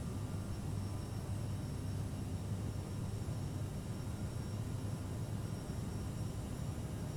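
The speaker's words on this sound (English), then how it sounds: "So the plane is starting to accelerate now." Steady, even engine roar of a CRJ jet airliner accelerating in Microsoft Flight Simulator 2020, a constant broadband drone with no talk over it.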